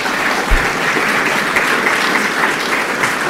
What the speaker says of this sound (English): You give a round of applause for Velu and Anne.